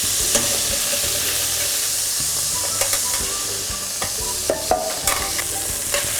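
Food frying in a pan in a restaurant kitchen, with a loud, steady sizzle and close, irregular stirring clatter and scrapes, busier toward the end.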